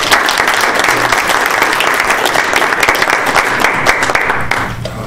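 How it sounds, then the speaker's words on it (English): Audience at a talk about Kdenlive video editing software breaks into loud, sustained applause that fades slightly near the end. "You can edit the applause so it's longer."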